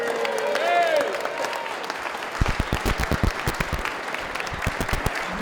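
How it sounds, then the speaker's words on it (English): Crowd applause for Bridgeport at the Connecticut State Capitol, dense clapping that starts partway through and continues to the end, after a voice speaking at the start. "So how about a round of applause for Bridgeport and everyone being here."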